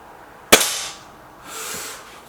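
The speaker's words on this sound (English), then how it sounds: "Both guns shooting really well, to be fair." A single sharp air rifle report from a BSA Lightning SE or Gamo Whisper X spring-piston gun, a loud crack followed by a hissing decay, then a faint distant pellet impact about a second later, with no talk.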